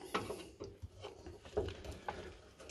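Screws being backed out of the air pressure switch mount on a Vokera Compact 25 HE boiler under stairs, giving close, irregular ratcheting clicks and small metallic knocks in a cramped, quiet space.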